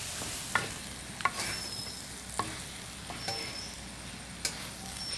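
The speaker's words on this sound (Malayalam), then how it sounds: "ഗംഭീരമായിട്ടാണ് ഇളക്കി കൊടുക്കണേ" Kerala-style brinjal curry stirred in a pan, a quiet continuous sizzle broken by a handful of sharp spoon clinks and scrapes against the pan, no speech.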